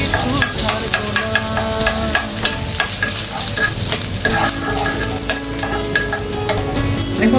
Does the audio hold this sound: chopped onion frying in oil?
yes